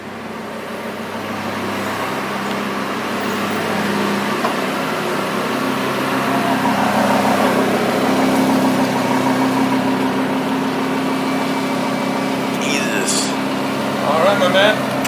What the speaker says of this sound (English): You can hear it, it's gonna rev louder, get better performance out of the engine, right?